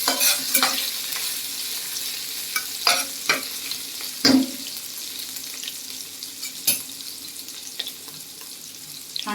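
Crushed ginger and garlic fry in hot oil with a pinch of asafoetida, giving a bright, close sizzle broken by scraping and stirring clatters against the pan.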